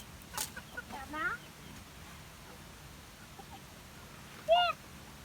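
Native chickens in a backyard breeding pen give a few faint, scattered clucks and calls against a noisy outdoor background, with a sharper call near the end.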